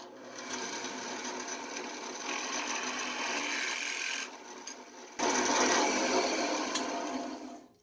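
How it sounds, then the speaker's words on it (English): A drill press running at 2400 RPM drives a 1/4 inch bit into brass with a continuous gritty whirring grind that briefly drops off midway before resuming strongly, with no talking. "We're back at the Packard with a 1/4 inch drill bit, drilling in brass"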